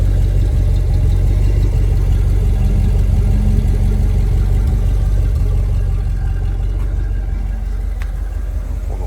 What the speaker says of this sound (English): Exhaust sounds great on it.